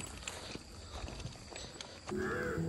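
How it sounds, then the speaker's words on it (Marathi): Crows caw at early morning near a footpath leading to a lake, heard among soft outdoor ambience and a few faint steps, with a louder tonal sound near the end. "पहाटे पहाटेच्या पक्ष्यांचा किलबिलाट आणि"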